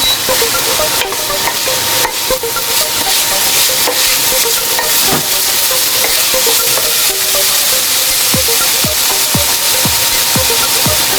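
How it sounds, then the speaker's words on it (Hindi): Cabbage frying in a pan for pav bhaji and being stirred: a loud, steady sizzle with repeated scraping strokes of the spoon toward the end, close up and without talk. "इसमें गोभी ऐड करते हैं। इसको अच्छी तरह से मिला लेते हैं।"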